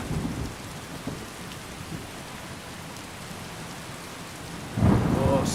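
Rain falls steadily in a Skyrim thunderstorm, and a sudden, close, heavy thunderclap breaks in near the end.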